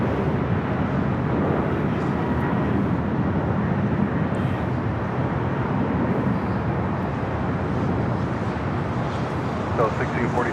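Jet aircraft at Los Angeles LAX airport, a continuous broad roar with wind buffeting the microphone and faint radio chatter underneath.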